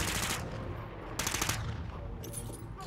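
Rapid automatic gunfire from a Call of Duty match rattles continuously at close range, with a couple of louder, sharper bursts standing out from the steady stream of shots.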